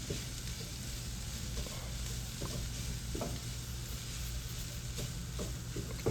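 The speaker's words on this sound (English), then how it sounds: "Mix it all in together." Tomato paste stirred into pulled beef in a hot pan: continuous sizzling with repeated scraping and stirring strokes of a utensil against the pan, steady and close, without talk.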